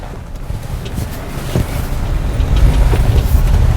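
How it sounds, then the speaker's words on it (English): A 2018 Mitsubishi Eclipse Cross S-AWC rolls off-road over bumps, giving a low rumbling, buffeting cabin noise with soft thuds that grows slightly louder as it goes. "See how the vehicle goes over these."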